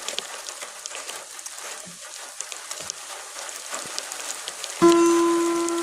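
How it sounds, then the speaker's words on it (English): Rain falls outdoors as a steady, crackling patter of drops for several seconds, then a sudden loud tone cuts in near the end. "you're getting some rain whether you like it or not"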